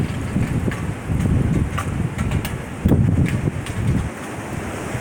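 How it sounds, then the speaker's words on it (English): Strong storm wind gusting during a tornado warning over Florence, Kentucky, roaring into the microphone in loud, rough bursts that rise and fall, with a heavy surge near the end and no talk. "right underneath of that was that major wind that just hit us."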